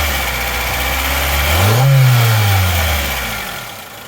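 The engine of a 1997 Honda Orthia, a sixth-generation Civic wagon, idles close by, then rises in a single smooth rev before settling back down toward idle.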